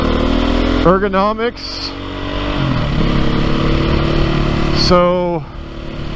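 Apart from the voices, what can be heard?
2022 Beta 430 RR-S dirt motorcycle engine while riding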